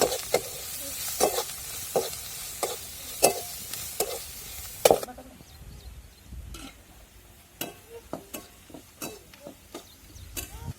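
Onion fries in a spice masala in a home kitchen, with a steady sizzle under repeated sharp scrapes and taps of a spatula stirring the pan. The stirring is louder at first, then turns quieter and more sparse.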